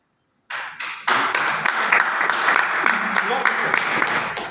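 Audience applause at a Modicare sales training session, a dense burst of many hands starting after a brief silence and sustained loudly and steadily throughout.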